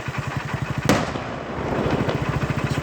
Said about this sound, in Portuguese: A explosão destruiu o caminhão, mas o cofre ficou intacto.